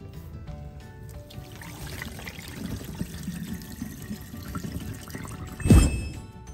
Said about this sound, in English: even the blocking water is beautiful